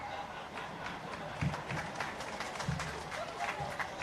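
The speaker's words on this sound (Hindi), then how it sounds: "तालियां क्यों बजा रहे हो?" Audience clapping at a BJP-Congress political rally in Madhya Pradesh, a faint, continuous patter of applause from a large outdoor crowd with a couple of louder thumps.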